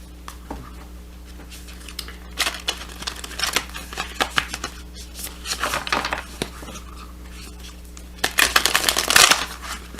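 Self-care cards shuffled by hand in a quiet room, giving several bursts of crisp riffling and flicking, with a longer, louder riffle near the end over a low steady hum.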